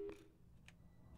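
Brief telephone dialing tones from the video game Portal 2, a couple of short beeps over a low background hum, fairly quiet and close.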